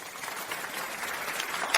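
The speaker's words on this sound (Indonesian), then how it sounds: "Mari kita berikan tepuk tangan meriah untuk menyambutnya." A crowd applauds to welcome a new executive, with brief, steady and fairly dense clapping throughout.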